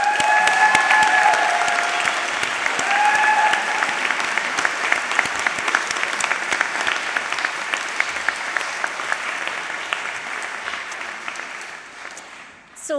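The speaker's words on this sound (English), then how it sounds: "please join me now in giving a round of applause to all those who have given you so much support" Sustained applause from the audience at a University of Greenwich graduation ceremony, dense clapping in a large hall that slowly thins and fades toward the end, with brief speech mixed in at the start.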